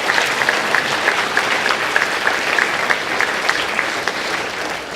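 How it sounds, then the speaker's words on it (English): An audience at a fifth-grade moving-up ceremony claps in a sustained round of applause, many hands blending into an even, moderately loud patter with some individual claps audible, without a break. "can you join me in giving them all a round of applause?"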